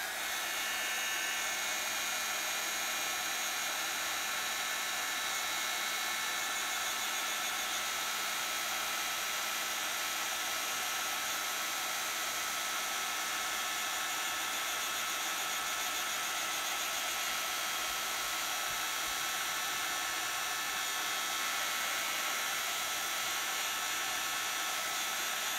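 A small dryer blows air over a page of a 6x6 accordion journal, making a steady, unbroken hiss and whoosh that holds at an even level for the whole stretch with no talking.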